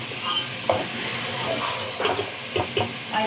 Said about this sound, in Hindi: हमने इसको बहुत अच्छे से भून लेना है ताकि इसका कलर चेंज हो जाए